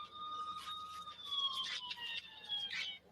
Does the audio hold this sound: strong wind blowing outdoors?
no